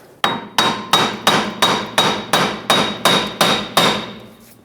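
Ten sharp metallic hammer strikes on a stuck rear wheel hub bearing of a 2012-2018 Nissan Altima land at a steady rhythm, each ringing briefly before the next, close by with no voices.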